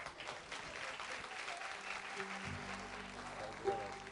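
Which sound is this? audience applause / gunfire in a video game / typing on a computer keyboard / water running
audience applause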